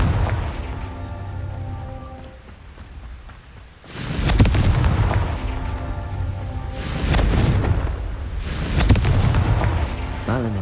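Confringo fire-blast spell going off in the Hogwarts Legacy video game, three loud booming explosions at roughly four, seven and nine seconds, each a sharp burst fading into rumble over a steady musical game backdrop.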